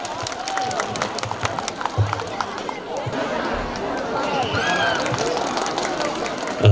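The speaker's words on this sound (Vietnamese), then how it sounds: "Mời cộng đoàn chúng ta cùng nổ một tràng pháo tay thật lớn để chào đón sự hiện diện của anh." An audience at a 2020 church hymn festival in Binh Hai parish, Vietnam, claps steadily to welcome a male singer. Crowd chatter and voices mix in with the sustained applause throughout.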